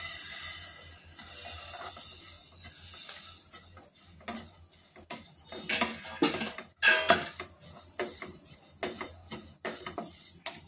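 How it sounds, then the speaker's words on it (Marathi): Sesame seeds dry roasting in a pan for sesame chutney, heard as soft scraping and stirring with light metallic clinks from a utensil, irregular and close, with no talking. "आता आपण तीळ भाजून घेऊया"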